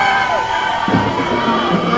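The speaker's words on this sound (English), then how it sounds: "Girls, give us a cheer." Woburn cheerleaders at a 2021 Halloween parade raise a loud burst of cheering and shouting, close and continuous, with a crowd noise bed beneath.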